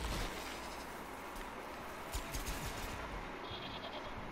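A goat bleats in the video game Plants vs Zombies Garden Warfare 2, a brief bleat over a steady, noisy game background with no talking.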